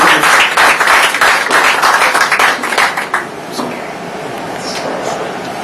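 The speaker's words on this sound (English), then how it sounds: "Round of applause." An audience at a business award ceremony applauds with dense, steady clapping that fades to a softer, lingering patter near the end.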